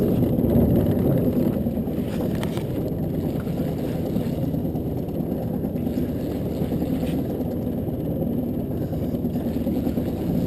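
A small fishing dinghy motors along under its outboard engine at sea, a steady droning engine noise mixed with wind buffeting the microphone, continuous with no speech.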